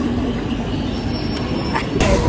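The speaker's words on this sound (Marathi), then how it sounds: "आता आम्ही ट्रेनमध्ये आहे." Steady rumbling clatter of a moving local train heard from inside, loud and continuous, with a brief high squeal and a sharper rattle near the end.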